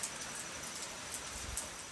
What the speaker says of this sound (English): This rain's giving us a little bit of a problem here.